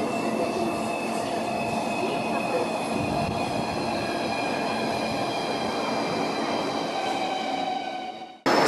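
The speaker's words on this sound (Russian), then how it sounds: "Все, мы дождались своего поезда и отправляемся в Адлер." A passenger train near Sochi, bound for Adler, arrives and rolls along the rails with a loud, continuous rumble, ringing wheel squeal and tonal whine that holds steady until a sudden cut at the end.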